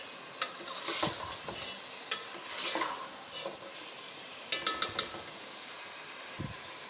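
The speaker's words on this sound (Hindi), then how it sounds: "2 से 3 मिनट के लिए चिकन को अच्छी तरह प्याज में और अदरक लहसुन के पेस्ट में पकाएगा।" Chicken pieces frying in ground onion and ginger-garlic paste for nihari sizzle faintly in a pan, with intermittent stirring scrapes and a few sharp utensil clicks against the pot, close but quiet.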